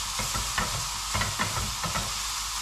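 Grated carrot fries in fat for pilaf with a constant loud sizzle, while a utensil stirs it in irregular scraping strokes. Nobody speaks.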